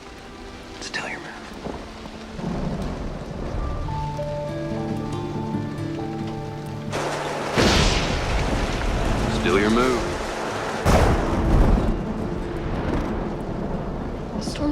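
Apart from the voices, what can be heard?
rain and thunder storm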